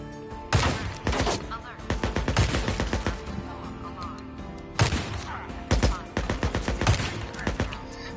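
Bursts of rapid gunfire from the Days Gone video game crackle in two clusters of sharp, punchy shots, with a voice talking quietly in between.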